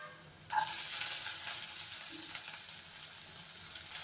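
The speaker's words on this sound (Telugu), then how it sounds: "పచ్చి బఠానీలు వేద్దాము." Green peas tipped into a hot frying pan with chopped green chillies burst into a loud, steady sizzle that holds evenly to the end, with a faint stir partway through.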